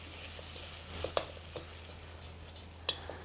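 Garlic and spring onions sizzle softly in hot oil for spicy Szechuan lo-mein, with a few light stirring clinks and scrapes of a utensil against the wok over a low steady hum.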